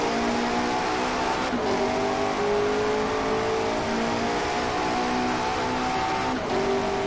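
Race cars in the racing game Driveclub during an online race, including a Ferrari: sustained loud engine drone with shifting revs and gear changes, close and continuous with no voices.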